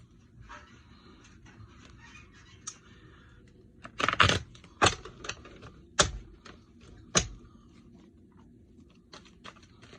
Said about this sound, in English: I cannot shuffle today for some reason.